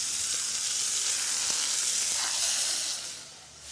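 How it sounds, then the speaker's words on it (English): Seasoned scallops sizzle in clarified butter in a preheated saute pan, a steady close, bright frying hiss that holds throughout and eases slightly near the end, with no speech. "put it in a preheated saute pan with the clarified butter. Add the seasoned scallops right to it"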